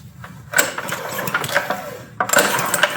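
A garage-find minibike engine is pulled over with its spark plug removed, making two bursts of rapid mechanical whirring and clattering, close and fairly loud, separated by a short pause.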